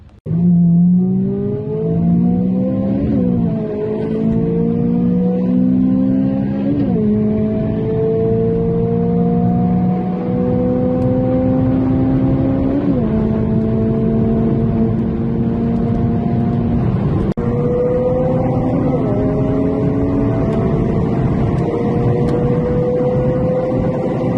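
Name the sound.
Honda Civic FN2 and EP3 Type R race engines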